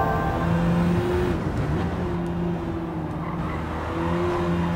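A Renault Megane RS races in Gran Turismo 7, its engine droning steadily and loud with a sustained tonal whine and tire noise, with no talk over it.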